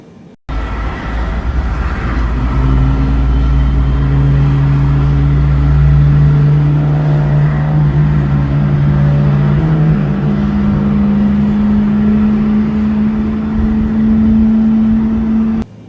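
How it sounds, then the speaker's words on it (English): Engine 1 of a Boeing 777 spools up at startup in Microsoft Flight Simulator 2020: a loud, steady mechanical hum with rising whining tones that climb and hold for about fifteen seconds, with no talking. "Starting engine 1."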